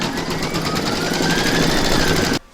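An embroidery machine stitches an in-the-hoop Christmas tree design, a loud fast mechanical rattle running steadily before stopping abruptly near the end.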